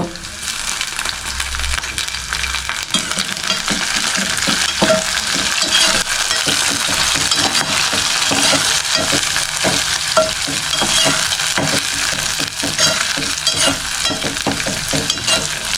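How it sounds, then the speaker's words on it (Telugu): Onions with green chilies and curry leaves frying in oil, a loud, dense, continuous sizzle with rapid crackling and occasional stirring, heard up close. "ఆనియన్స్ ఫ్రై అయిన తర్వాత పచ్చిమిర్చి కూడా అయితే వేసుకోండి అలాగే కరివేపాకు"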